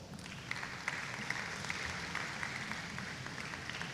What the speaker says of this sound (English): So let's give Robin a round of applause.